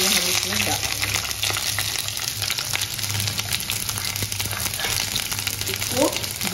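Big chunks of chopped capsicum and onion frying in a kadai give a loud, dense, continuous sizzle with occasional stirring scrapes and a faint voice in the background.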